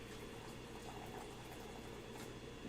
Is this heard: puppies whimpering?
no